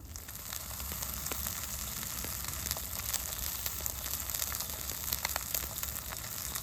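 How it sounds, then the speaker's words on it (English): Freshly caught fish sizzles and crackles in a frying pan at a campsite, a quiet, steady hiss with scattered pops and no talking. "I think I'll fry my fish first, just for an appetizer."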